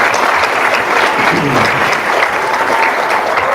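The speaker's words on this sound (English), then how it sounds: "let's give our panel a round of applause." A large audience claps steadily and loudly, a dense continuous wash of applause throughout.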